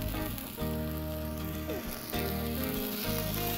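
A hamburger patty fries on a Blackstone griddle, a loud continuous sizzle with crackling spatter throughout, close and dominant, with no talking.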